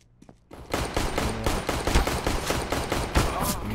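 Rapid bursts of Counter-Strike gunfire crackle continuously after a brief quiet start, a dense volley of overlapping shots.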